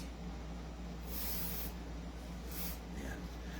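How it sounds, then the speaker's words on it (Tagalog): Two short bursts of oil lubricant sprayed from an aerosol can onto a Glock 17 pistol, each a sharp hiss over a low steady hum, close and fairly quiet, with no talk. "Pindutin, saka tayo mag-spray."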